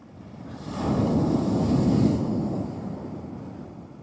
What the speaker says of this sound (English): And some big swells coming in there.